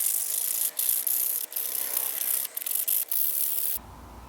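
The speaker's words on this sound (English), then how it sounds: "I can start the slightly laborious task of polishing all the frets. I'm going to use 400 grit sandpaper to begin with" Guitar frets are polished with 400 grit sandpaper in quick back-and-forth strokes, a close, hissing rub broken by brief pauses, stopping abruptly near the end.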